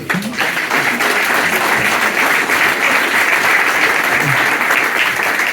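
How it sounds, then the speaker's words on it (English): A crowd at a live retro gaming event applauds a guest speaker, steady loud clapping filling the room without a break, with faint murmurs underneath. "Round of applause please"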